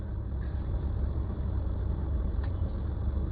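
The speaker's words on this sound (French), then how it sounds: "moi voici dans ma bagnole, Marlène." Steady low rumble of a car engine running, heard from inside the car in Cameroon, a constant droning hum with no speech over it.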